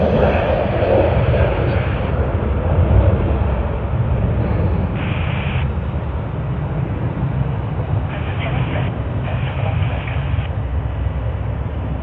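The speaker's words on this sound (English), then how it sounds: "That's Sydney to Darwin service on Virgin Australia. I do believe they will rotate even before we see them." A Virgin Australia jet takes off from Sydney bound for Darwin, heard as a loud, steady broadband roar that holds without a break for the whole stretch.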